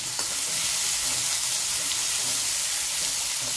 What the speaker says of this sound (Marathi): कांदा परतून घेतलेला आहे आणि आता आपण पेस्ट घातलेली आहे